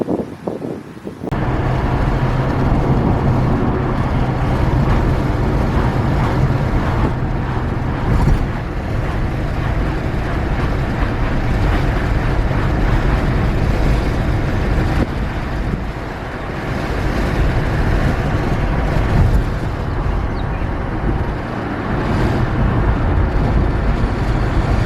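A car drives past a resort while filming out the window, giving a steady, loud broadband rumble of road and wind noise throughout with no talk.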